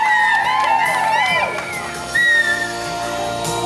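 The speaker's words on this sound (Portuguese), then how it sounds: "Palmas pro Zé, galera!" Lively crowd cheering and whooping for Zé, with whistles and shouting voices layered together, loud and close, swelling briefly before settling.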